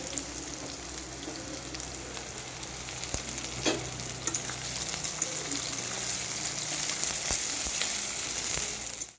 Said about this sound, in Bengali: পেঁয়াজটা কিন্তু বেশ এরকম লাল লাল করে ভাজতে হবে।